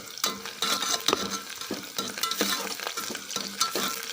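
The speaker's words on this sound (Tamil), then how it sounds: "இப்போது நல்லா வதங்கி வருது" Green chillies sautéing in a pan for vegetable curd rice: a continuous soft sizzle with a spoon stirring and scraping in quick repeated strokes, close and fairly quiet.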